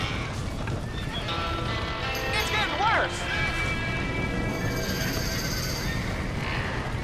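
Trapped horses neigh and whinny from a burning barn in the Red Dead Redemption video game, one shrill whinny rising clearly mid-clip over a dense roar of fire and commotion while someone speaks.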